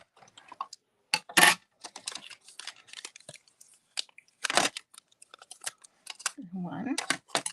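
Scissors or a die-cut tool snipping paper card pieces during a stamping and cardmaking session, with scattered crisp cuts and rustles, close and fairly loud, mixed with brief talk.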